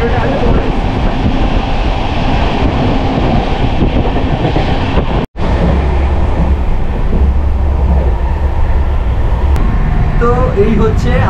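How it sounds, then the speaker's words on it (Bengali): An express train rolling into Kharagpur station, a steady loud rumble of wheels and carriage noise with a brief dropout midway and a voice speaking over it. "ট্রেন কিন্তু খড়গপুর ঢুকছে"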